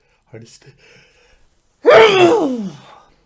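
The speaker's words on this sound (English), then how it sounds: "that was an actual sneeze." One loud, sudden sneeze close up, preceded by a few faint breathy intakes, then trailing off into quiet.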